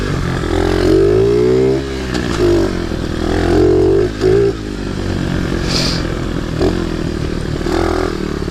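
A pit bike's small engine runs close and loud, its buzzing note rising and falling as the throttle is blipped, with a brief dip and some rattling clatter.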